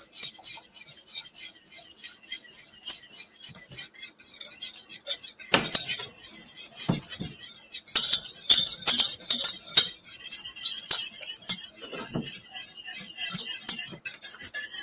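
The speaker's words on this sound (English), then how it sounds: "now I gotta whisk" A whisk scrapes and clinks rapidly against a pan while stirring a thickening sauce for braised short ribs, a continuous busy metallic rattle with a few sharper taps, close and moderately loud.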